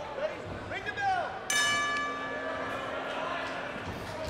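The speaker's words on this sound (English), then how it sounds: "Ring the bell." A wrestling ring bell is struck once to start a tag-team match, a sharp metallic clang with a long ringing decay, heard under crowd noise and an announcer's voice.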